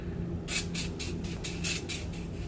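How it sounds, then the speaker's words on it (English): Beauty Bakerie Sweet Grace Baking Spray setting spray misted over a finished makeup look, about seven quick aerosol bursts in a steady rhythm, close and crisp over a quiet room hum. "This is the Beauty Baker Sweet Grace Baking Spray."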